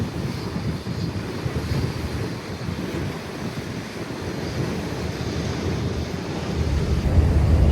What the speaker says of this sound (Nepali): यता हेर्नुहोस् त यस्तो दामी मजाले ल पानी उछिटिरहेको छ यसरी